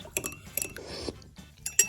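A spoon stirs hot lemon drink in a cup of just-boiled water, with light metallic clinks against the cup and a soft swirl of liquid in between, close and quiet, no talking.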